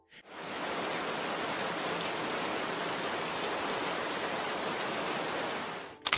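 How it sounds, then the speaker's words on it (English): Steady rain pours down in a continuous, even hiss that stays loud and unbroken from start to finish, with no voices. "It caught a special moment of an otter playing in the rain."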